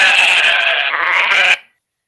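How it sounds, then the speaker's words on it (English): A single long goat bleat used as a radio play sound effect, loud and close, wavering for about a second and a half before cutting off sharply into silence. "there's a goat here"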